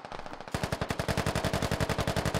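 M240 Bravo medium machine guns rattle in Squad, a dense noisy patch giving way to a steady, rapid rhythmic burst of shots, loud and close, continuing for over two seconds with no speech.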